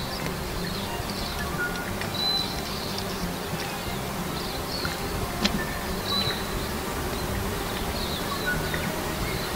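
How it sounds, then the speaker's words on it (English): Wasps buzz steadily in a bush beside Lake Rotoroa on New Zealand's South Island, a dense continuous drone with faint bird calls and rustling behind it and no talking. "Yeah, that's the wasps."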